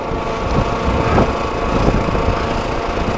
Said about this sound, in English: going back to the rattle noise when I rev it up and let off the idle, off the gas